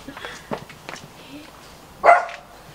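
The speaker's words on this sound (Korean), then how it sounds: "강아지도 있어요." A puppy inside a home with a courtyard gives one short, loud bark at about two seconds, after softer shuffling and faint sounds.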